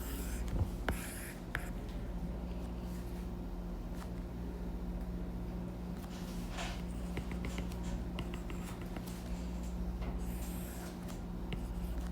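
Pen or pencil writing on paper while a worked example is set out, a soft continuous scratching that runs for about twelve seconds over a steady low hum, with no talk.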